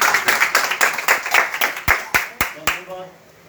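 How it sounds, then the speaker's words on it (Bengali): Evenly spaced hand claps from an audience at a weekly Friday meeting ring out close and sharp, a dozen or so in steady rhythm that slows and fades toward the end. "আমরা একটা জোরে করতালি দিয়ে"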